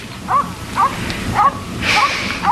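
A dog barks outdoors on a cold day: five short, yelping barks spaced evenly about half a second apart, fairly close and clear, with no talking.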